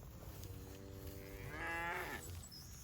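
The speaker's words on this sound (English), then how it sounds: "That's the calf." A calf on a farm moos in one drawn-out, rising call, close and fairly loud, with soft rustling from the surroundings around it.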